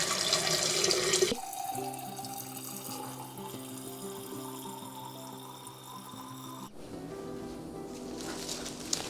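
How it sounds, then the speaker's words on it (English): Water runs from a tap into a vase being filled for cut garden stems. A loud gush at the start settles into a rising, ringing fill tone, then splashes again near the end. "let's fill it up with some water"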